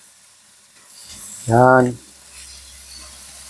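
Ordinary beef sautéing in a pan makes a faint, steady sizzle, briefly covered by a single short spoken word in the middle.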